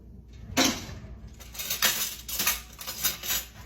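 A large spoon scooping shrimp salad with broccoli, cauliflower, celery and shallot in a dish, giving several close clinks and scrapes against the dish in an uneven rhythm.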